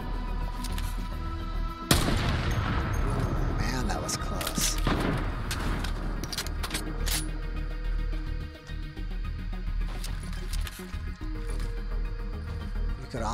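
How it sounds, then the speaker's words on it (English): Gunfire in a Fortnite match, a sharp loud crack followed by a scatter of distant thuds and pops, under background music and game ambience, with a player talking over it. "Oh, someone's shooting at me somewhere."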